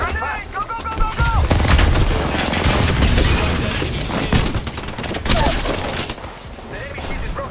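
Gunfire and a grenade blast in the Apex Legends video game, rapid overlapping shots and booms in a dense firefight, loud and close, with voices shouting over the action.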